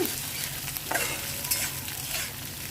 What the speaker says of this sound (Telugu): ఉల్లిపాయ పచ్చిమిరపకాయలు కరివేపాకు వేసానండి ఇవి కొంచెం ఫ్రై అయినాక